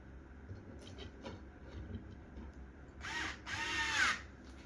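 An electric screwdriver drives screws into pieces of wood, starting with a quiet low whir and then rising into two loud, grinding bursts of the motor straining as each screw bites into the wood.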